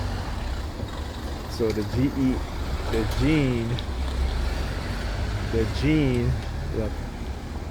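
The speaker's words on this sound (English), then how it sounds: "You hear the fire truck?" A passing fire truck's siren wails in short rising and falling swells over a constant rumble of traffic, while someone talks close by.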